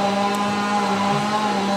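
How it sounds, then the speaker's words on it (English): A neighbor's Husqvarna chainsaw drones on steadily in the background, a continuous buzzing engine tone that holds even and fairly loud throughout. "That's my neighbor using the Husqvarna chainsaw"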